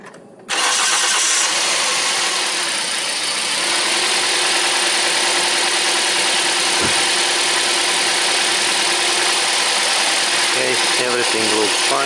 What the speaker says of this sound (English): now I start the engine and let's look how this works